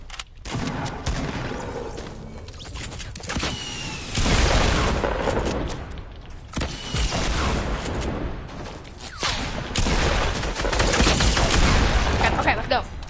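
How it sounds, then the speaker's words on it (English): Repeated gunfire bursts and booms in a PS4 battle-royale shooter, enemies firing from a mountaintop, loud dense volleys recurring throughout with occasional voice chat under the shots. "The people on top of the mountain, they're shooting at us"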